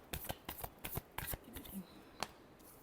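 Tarot cards are shuffled in a quiet room, giving a series of crisp riffling bursts in quick clusters, then a pause and one final snap.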